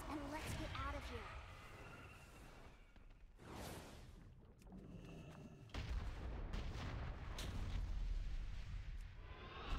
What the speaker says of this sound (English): Detonate the explosives, and let's get out of here.